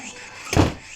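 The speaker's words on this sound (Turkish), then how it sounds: "Ha kap tamam kapıyı örttüm." A door swings shut with a single dull thud midway through, a short close impact standing out against a quiet room background.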